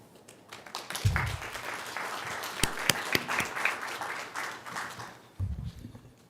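Applause at a city council meeting swells into a sustained round of clapping from the room, with a few sharp louder claps, before fading into low background noise and a thump.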